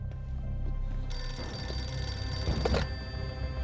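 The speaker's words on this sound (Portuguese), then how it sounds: "O telefone do castelo toca." Telephone ringing inside a castle amid a WWII battle with gunfire, a loud sustained bell ring that starts about a second in and lasts nearly two seconds, over low rumbling background noise.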